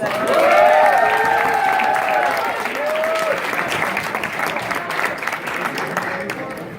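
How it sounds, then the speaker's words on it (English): Steady applause from a crowd at a regional convention fills the whole clip, with a voice and some tonal sounds over it, slowly fading toward the end. "Please give a round of applause"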